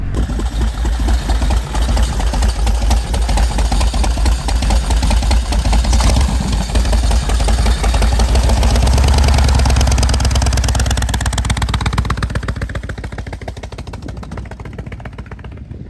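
A hand-built 5000cc V-twin motorcycle engine idles close by with a steady, deep rumbling throb that eases off slightly toward the end.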